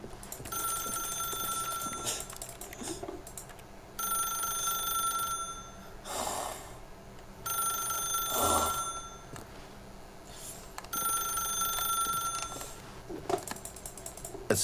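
A telephone in The Stanley Parable rings in repeated bright electronic bursts, about four rings with pauses between, alongside occasional soft thuds and rustles, with no talk.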